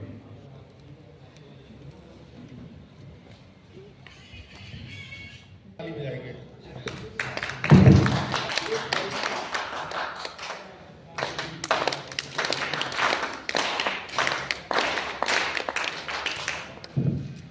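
A group of party workers clap their hands together at an organisational meeting, the applause building into a dense, lively patter that comes in waves and holds steady through the latter half, with crowd noise mixed in.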